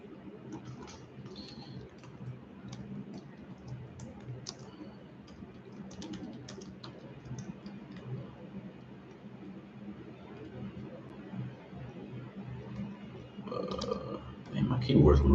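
Rapid, irregular clacking of a sticking computer keyboard being typed on up close, with scattered clicks, during a live trading session; speech is also present, and the sounds grow busier and louder at the end.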